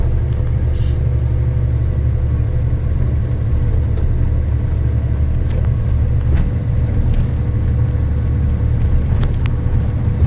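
A Bharat Benz truck labours up a hill road in fifth gear, its engine a steady, loud low rumble that fills the whole stretch with little change, joined by faint higher ticks and clatter.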